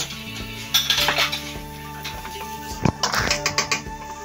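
Diced ham browning in oil with garlic in a pan, with a utensil scraping and clinking against the metal in irregular strokes and a soft background sizzle.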